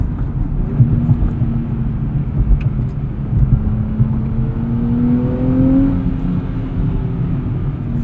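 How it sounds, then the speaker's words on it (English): The 3-liter V6 of a 2023 Nissan Z with a manual transmission revs under way, a loud, continuous engine drone climbing in pitch over road and cabin rumble, with no talking. "Hear that 3-liter V6 sing."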